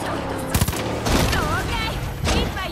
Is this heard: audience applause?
no